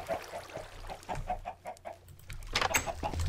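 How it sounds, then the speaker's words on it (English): Chickens in a Minecraft egg-production chicken farm cluck in a quick, regular series of short calls, fairly close and clear, with more overlapping clucks toward the end. "A few chickens in it."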